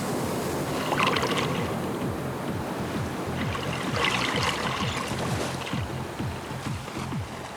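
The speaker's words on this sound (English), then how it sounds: "The waves are crashing in." Surf waves crash and wash continuously at a beach, a steady rushing roar with a couple of louder surges, no voices.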